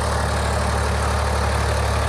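A 45 HP tractor fitted with a 7-foot Farm Power rotavator idles close by, a steady low rumble with an even throb and no speech over it.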